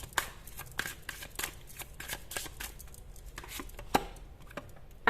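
A deck of chakra cards being shuffled, a quick run of soft papery riffles and flicks close by with no voices.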